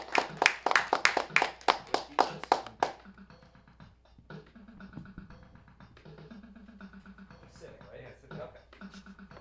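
An audience applauding a performer named Jeremiah at a live comedy show, with a short burst of loud, rhythmic hand claps that stops abruptly, followed by quieter sounds of people talking.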